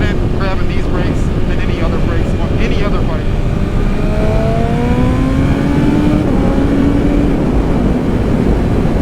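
A BMW S1000RR sport motorcycle accelerates while being ridden, its engine note climbing steadily in pitch under heavy wind rush, with a rider talking over it.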